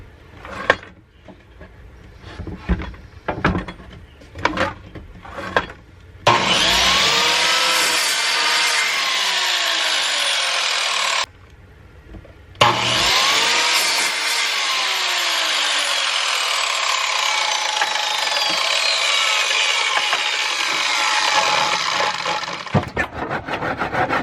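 A saw rasps through a piece of wood: a few short strokes at first, then a long, loud, continuous cut that pauses briefly and resumes until the end, close up with no talking.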